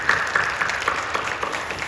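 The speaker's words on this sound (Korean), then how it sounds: "격려하며 박수해 주시죠." A church congregation applauds at a Korean worship service, steady close clapping from many hands lasting about two seconds.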